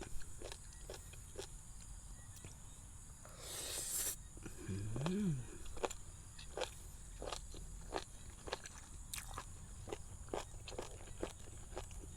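Close, crisp crunching as someone chews crunchy spicy jellyfish salad, the bites coming in a steady rhythm, with a brief murmured voice partway through.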